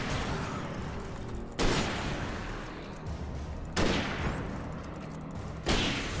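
Three heavy gunshots from the Alan Wake video game, spaced about two seconds apart, each a loud sudden blast over dense, constant background noise.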